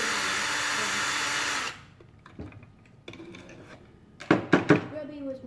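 A power drill drills off the head of a screw during a Teddy Ruxpin toy repair, whirring steadily and loudly up close for under two seconds before cutting out, followed by quiet handling noises and a few sharp knocks.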